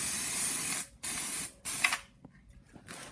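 A can of spray primer hisses in three steady bursts, each about half a second to a second long, then gives a fainter, shorter puff, close up with no talking.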